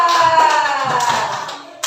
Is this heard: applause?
yes